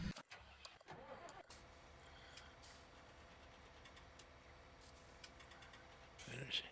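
Tractor engine starting in a field, a short cranking burst at the start that settles into a low, steady idle, fairly faint and distant, with a few clicks and a louder swell near the end.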